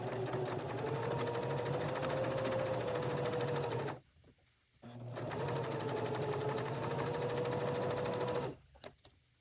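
A sewing machine stitches US flag appliqué fabric in two sustained runs, each about four seconds long, with a steady motor hum. A brief pause separates the runs.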